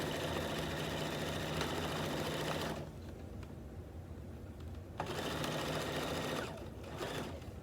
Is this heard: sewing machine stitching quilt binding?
yes